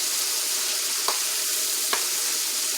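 Ground beef browns in a hot pan with a steady, loud, hissing sizzle, and a spatula scrapes the pan twice.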